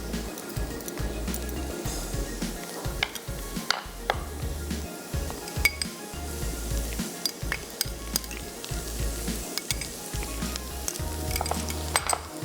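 Garlic ginger paste fries in hot oil for a fajita karahi gravy, a soft continuous sizzle broken by intermittent spoon scrapes and light clinks of stirring in the pot.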